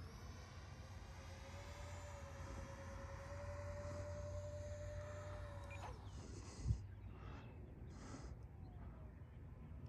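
A hand-launched flying wing model aircraft with twin 50mm electric ducted fans whines steadily at a distance, its tone gliding slightly before cutting out, followed by a short thump and a few brief noises.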